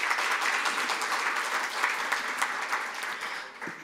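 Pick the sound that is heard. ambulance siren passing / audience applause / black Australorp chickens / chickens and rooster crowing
audience applause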